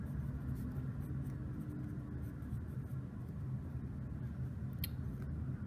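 Steady, soft scratching of handwriting while working a geometry problem about triangles, continuous and close with no pauses and no talking.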